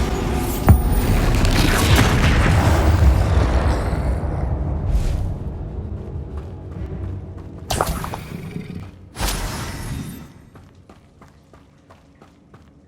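Bombarda explosion spell in Hogwarts Legacy, a heavy rumbling blast with rolling debris and clatter that swells for several seconds, followed by two sharper bursts and fading crackle, loud and close with no voices.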